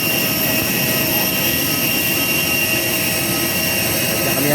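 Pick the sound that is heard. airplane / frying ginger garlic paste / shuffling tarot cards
airplane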